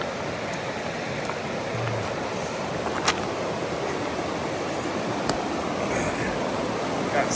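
A river by a hunting camp flows with a steady, even rushing wash close by, unbroken and with no voices.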